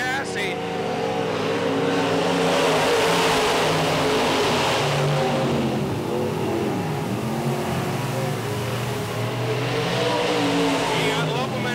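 IMCA modified race cars, including a Ford-powered car and a truck-motor Taylor chassis, race around a dirt track at a county speedway, engines droning and surging continuously under an announcer's commentary.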